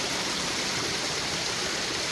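A small stream pours over little mini waterfalls along a river, making a steady, close, full rushing wash of water with no pauses or voices.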